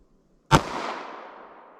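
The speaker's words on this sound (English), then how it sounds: "let's see how close we get to 1201 feet per second in this little G2C here with our 9mm" A single 9mm pistol shot from a Taurus G2C subcompact, fired with Sellier and Bellot JHP ammunition. It is one sharp, loud crack with a short decaying tail, heard alone.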